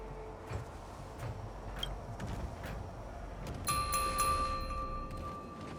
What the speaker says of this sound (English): We could try ringing the harmonic chime.